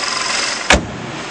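A 2008 Audi A6 engine idles smoothly and steadily nearby, a broadband hum with one brief louder thump partway through.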